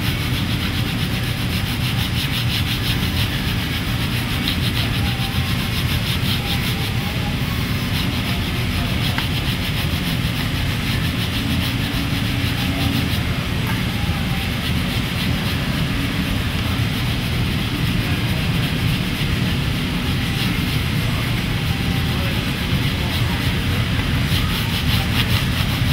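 Frets on a PRS guitar are sanded with a 280 grit pad, making a loud, continuous abrasive rubbing that runs steadily and closely throughout.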